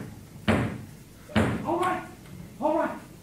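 A door is forcefully broken down in a dramatized scene: three heavy thuds and slams of impacts against wood, spaced about a second apart, with shouting voices between the blows.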